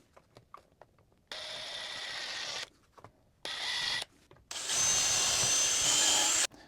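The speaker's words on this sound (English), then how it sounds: "we're going to pilot these with the 1/8 inch drill bit" A drill bores 1/8 inch pilot holes while a smart deadbolt is installed, with three separate loud whirring bursts of one to two seconds each, split by short pauses filled with light taps and handling clicks.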